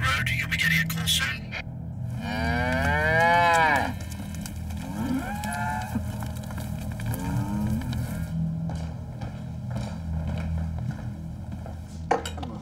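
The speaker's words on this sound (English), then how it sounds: "reports of cows wandering through the streets of Todmorden" Cows on a housing estate in Todmorden, West Yorkshire, give several long, loud, drawn-out moos close by over a steady low background hum, with a few faint clinks between the calls.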